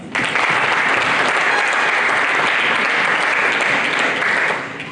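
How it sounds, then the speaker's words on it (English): Conference audience applauds at a real estate and infrastructure event, with sustained, dense clapping from a large crowd that holds steady for several seconds before tapering off. "Let's clap for her."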